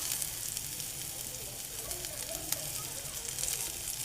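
Chopped white onion frying in hot oil in a pan along with crushed dried curry leaves for an ivy gourd vegetable dish, giving a steady, close, bright sizzle with faint crackles throughout.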